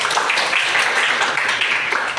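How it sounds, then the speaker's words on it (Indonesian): Students in a chemistry class clap together in a counted clapping routine. The hand claps are loud, close and continuous, forming a dense, busy wash of sound with no clear gaps. "Tepuk 1, tepuk 2, tepuk 5."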